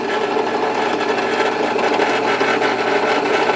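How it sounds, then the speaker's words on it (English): A power drill boring a hole in a fingerboard whirs steadily and loudly without a break, a dense continuous mechanical buzz with no voices. "just get that drill right over that hole"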